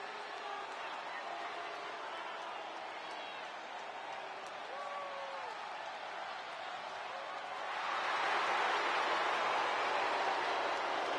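Crowd noise in the wrestling video game WWE 2K25, a steady broad roar of an arena audience that swells louder toward the end, with a commentator talking over it.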